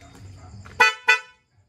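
Two loud, close blasts of an aftermarket loud horn on a Honda XRM110 motorcycle, each lasting about a quarter second, following a low idling engine rumble, then silence.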